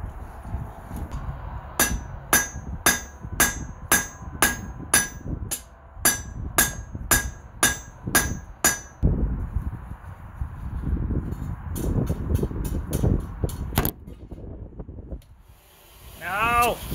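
A hammer strikes a hot steel taper on an anvil in sharp, ringing blows that come in a steady rhythm, then a pause with rustling before a few quicker strikes, with wind noise in the background.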